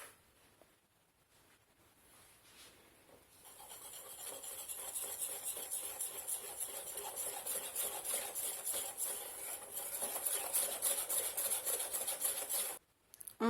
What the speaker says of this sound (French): Alors maintenant, on verse la levure chimique et puis on va mélanger.